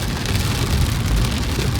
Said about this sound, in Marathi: तर पाऊस आला